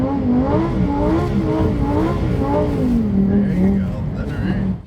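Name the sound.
Lamborghini Huracan STO driving on an ice track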